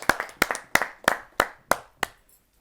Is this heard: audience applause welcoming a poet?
yes